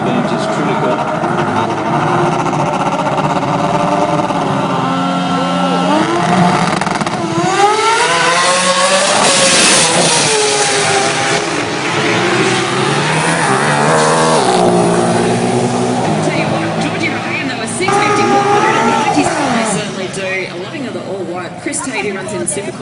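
Drag race cars at a Winternats meet at Willowbank roar loudly and continuously, engines revving and rising in pitch, under an announcer's running commentary.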